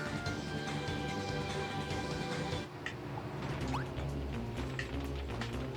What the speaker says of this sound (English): Riding the elevator.